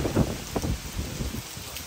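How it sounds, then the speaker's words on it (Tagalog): Heavy rain pouring down at night during a getaway in Bataan, a dense steady hiss and patter close by, with no talk. "Ah, it's raining hard!"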